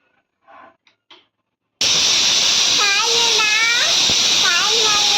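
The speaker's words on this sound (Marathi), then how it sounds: "कुकर लावून घेते मी, 2 शिट्ट्या होऊ द्यायचे." Quiet voices are heard briefly, then a pressure cooker cooking soybean rice abruptly bursts into a loud, steady steam hiss, with voices faintly audible beneath it.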